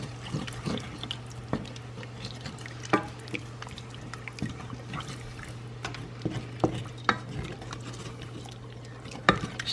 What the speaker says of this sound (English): I put in about half, and then I stir it real good